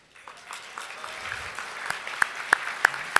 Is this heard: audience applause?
yes